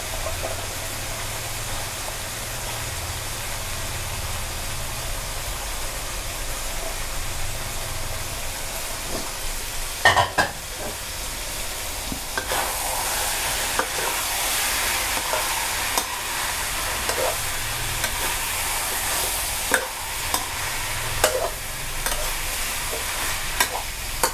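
Stink beans stir-fried with minced pork and shrimp: a continuous hissing sizzle fills the pan, broken by repeated scraping and clanking of a spatula, growing louder and brighter partway through, with no voices.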